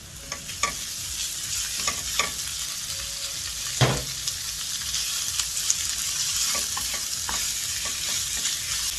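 Meat stir-fried in a pan sizzles loudly and continuously, with sharp clicks and scrapes from a spatula stirring it at irregular moments, close up and without talk.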